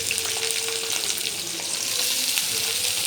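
Shallots sautéing in a pan with garlic, green chili and ginger give a steady, close sizzle with faint stirring scrapes, even and continuous without any speech.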